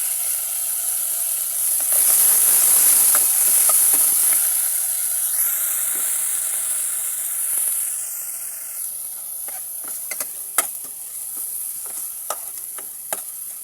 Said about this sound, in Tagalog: Gusto ko lang siyang igisa.